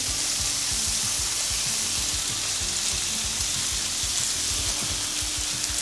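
Peppers and onions frying on a Weber Slate griddle at breakfast, a steady close sizzle with irregular crackles and pops throughout, no voices.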